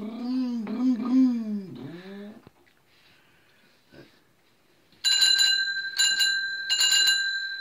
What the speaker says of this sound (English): See if you can ring the bell.